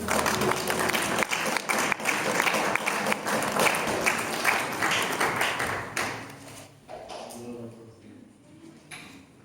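A church congregation bursts into loud, sustained applause and clapping with voices acclaiming during a French-language service, the clapping dense at first and then thinning out as it fades toward the end.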